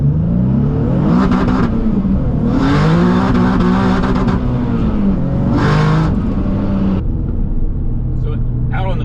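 An 800 WHP Nissan 370Z street car with a 2.5 inch Fast Intentions exhaust, driving in low boost, gives a steady, fairly subdued engine drone with rising revs and shifts, running under continuous talk.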